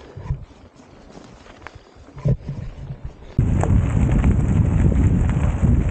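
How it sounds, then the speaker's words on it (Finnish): Rain comes down on a mountain-bike bikepacking route at Pyhä-Luosto. After a quiet, patchy stretch it abruptly gives way to a loud, steady, close hiss that holds to the end. "Sade sen kun yltyy"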